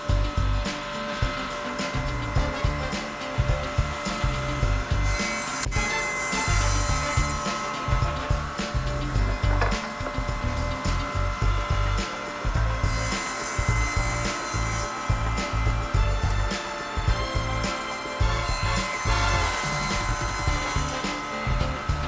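A table saw cuts wood for a Morris-style armchair, the workpiece guided against a clamped fence stop; a loud, continuous whining roar with grinding passes rising and falling throughout, no speech.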